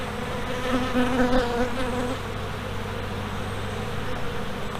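Honeybees hum in a dense, steady drone at an open hive during an inspection, close and continuous, with individual bees buzzing louder as they pass near.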